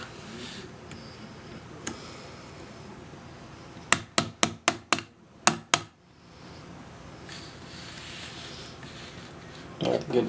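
A rubber mallet taps roll pins out of a Walther P22 pistol: a quick burst of about eight sharp, close knocks over a couple of seconds, then quiet room tone.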